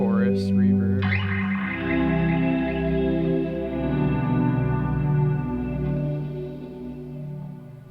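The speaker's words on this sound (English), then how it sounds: "Here's my chorus reverb." Electric guitar played through a chorus reverb effect pedal, with a struck chord ringing out in a shimmering, wide wash that sustains and swells, followed by further chords and notes blending into a lush, steady tail.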